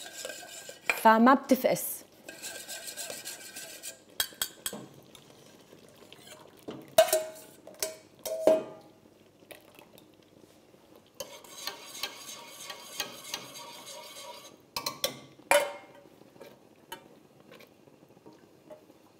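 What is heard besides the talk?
stirring cream sauce in a pan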